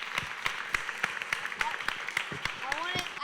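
Audience applause at the end of a TEDEd club show in Turin: a steady patter of claps beneath people talking, moderately faint and continuous throughout.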